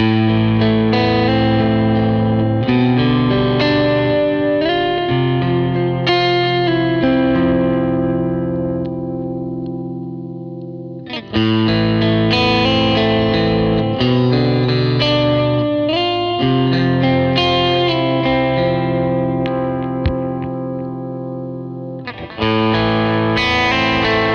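Clean electric guitar on its neck pickup through an amp, a Rivolta guitar, strummed chords and picked notes ringing with a warm tone, some reverb, pausing briefly before continuing.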